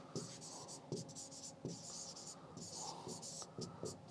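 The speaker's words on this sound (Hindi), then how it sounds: "मैं यहाँ लिख देता हूँ" Chalk or marker writing on a board during a history lecture, a run of close scratchy strokes with short pauses between words, alone without talk.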